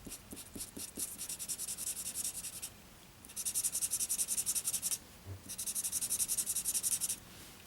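Fine-nib marker scratching and rubbing across paper in repeated strokes, close and quiet, with short dabs at first and then longer bursts of steady coloring separated by brief pauses.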